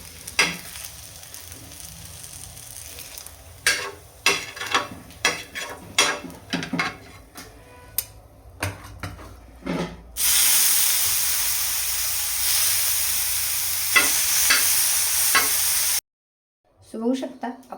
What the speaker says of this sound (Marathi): तव्यावर खूप लवकर भाजतो मसाला